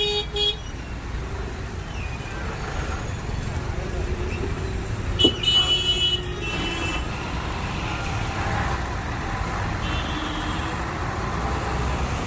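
Road traffic rumbles steadily with vehicles honking now and then, short horn toots rising over the continuous roadway noise while people talk nearby.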